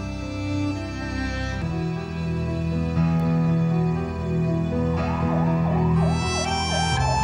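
An ambulance siren wails loudly at the scene of a terrorist attack in Pakistan, with a steady tone giving way to rapid, repeated up-and-down whoops over street noise.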